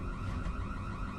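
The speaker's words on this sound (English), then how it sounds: "the fire alarm goes off" An alarm going off indoors in a home, a continuous steady electronic tone, loud and unbroken, with no one talking.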